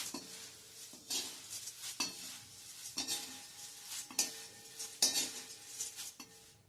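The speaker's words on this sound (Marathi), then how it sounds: "आणि हे पोहे भाजण्याची पद्धत बघा. 2 झारे घ्यायचे आणि अशा पद्धतीने भाजायचे," Poha flakes dry-roasting in a pan for a traditional Konkani breakfast, turned with two slotted spoons: rhythmic metallic scrapes and clinks about once a second over a light rustle, close and clear.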